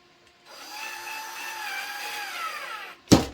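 A powered driver runs a screw into a box fan air purifier, giving one close, steady whine of about two and a half seconds that sags slightly in pitch, followed by a sharp click as it stops.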